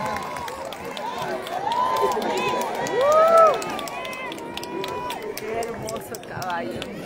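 Crowd at a Chumpi San Pedro y San Antonio chamiza entrance festival, a lively mixed roar with bursts of applause and cheering under an announcer's voice, swelling briefly near the middle before settling back.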